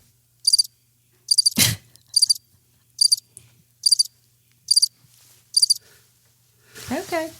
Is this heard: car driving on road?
no